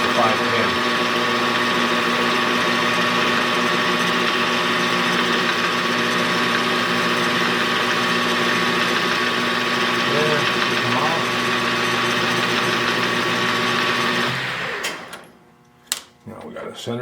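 A small lathe with a quick change tool post facing the back of a metal part, giving a steady, even motor whine and cutting hum that runs unbroken before cutting off, followed by a few faint clicks and knocks.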